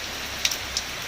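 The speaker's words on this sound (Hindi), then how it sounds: "ये बारिश आप लोगों को दिखाए" Morning rain in Bengal during the monsoon season, a steady dense hiss of falling rain filling the whole moment, with a few faint drop taps standing out briefly over the constant wash.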